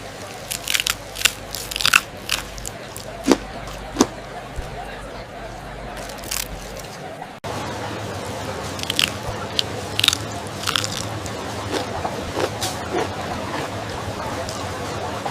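Crispy grilled shrimp marinated in garlic and herbs, cooked over an open flame, is bitten and chewed, giving sharp crunches and crackles close up over a low background hum.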